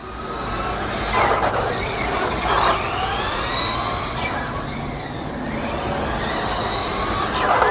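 Traxxas Slash 2WD RC car running at quarter power, an electric motor whine rising and falling in pitch as it speeds up and slows, with gritty rolling and rumbling noise throughout, fairly loud and close.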